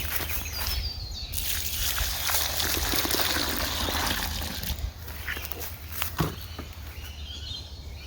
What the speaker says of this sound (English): get some water and just put it down here just to kind of get a bit of moisture into the soil